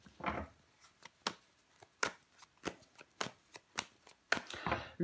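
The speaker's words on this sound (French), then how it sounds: "je recoupe des cartes pour vous les Capricornes" A deck of tarot cards is cut and shuffled by hand, giving a string of sharp, crisp riffles and taps at irregular intervals, close and fairly quiet, with no talk.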